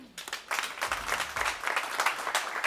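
A conference audience at a business SME day event breaks into applause, a dense burst of clapping that holds steady for a couple of seconds after a faint start.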